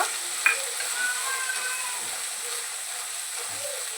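Chilli and garlic paste frying in hot oil in a pan gives a soft, steady sizzle with a sharp spit at the start and faint stirring clicks.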